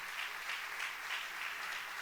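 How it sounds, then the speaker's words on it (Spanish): A church congregation applauds together in steady, sustained clapping that stays even throughout, fairly distant and soft. "¿Cuántos pueden darle un fuerte aplauso al Señor?"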